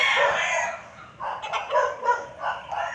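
A rooster crows loudly and close at a chicken farm, one drawn-out call followed by a broken, rising second crow, with other fowl faintly clucking behind.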